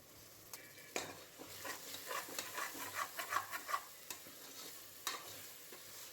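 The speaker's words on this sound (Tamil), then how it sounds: "தக்காளி நல்லா குழையணும், அந்தளவுக்கு வதக்கி எடுத்துக்கோங்க." Tomatoes and yogurt sautéing for prawn biryani, a soft steady sizzle broken by repeated scraping stirs of a spoon against the pan, with a few sharper knocks; close and fairly quiet, no talking.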